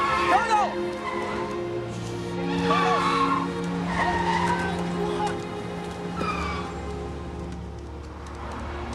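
Car tires skid and squeal in rushing city traffic during a dramatic film street scene, with several sharp squeals rising over a constant traffic rumble and voices.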